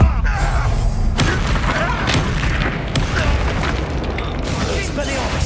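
Spell impacts from the video game Hogwarts Legacy, including the Stupefy stun spell, land as deep booming thuds within a dense, loud mix of combat effects and music.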